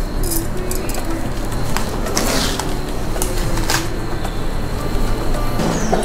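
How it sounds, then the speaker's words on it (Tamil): Mustard seeds crackle and pop in hot oil in a home kitchen pan, a steady dense sizzle dotted with sharp clinking spits that carry on throughout at close range, with no talking. "கடுகு நல்லா பொட்டிடுச்சு."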